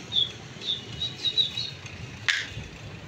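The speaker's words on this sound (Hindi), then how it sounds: "ये उड़ा रहे हैं कबूतर हम।" Pigeons are released to fly, giving a few quick flutters and one sharp burst of wingbeats among faint chirps.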